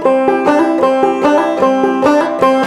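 A clawhammer banjo plays rushed, compressed eighth notes with a hurried hammer-on, bright plucked strikes in an uneven, clipped rhythm, close and loud, with no voice.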